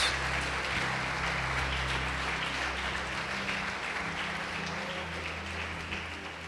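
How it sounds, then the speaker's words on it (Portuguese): A church congregation applauds together in steady, dense clapping that fills the room and slowly fades toward the end, with no speech over it. "Pode aplaudir e glorificar o Senhor Jesus."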